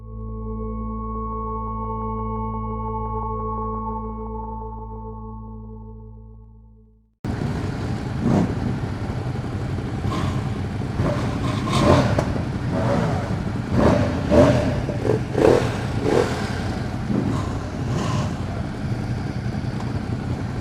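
A 2016 Ducati XDiavel's engine revs on a ride in pouring rain, a steady tone for about seven seconds, then loud engine and wind roar with repeated throttle surges.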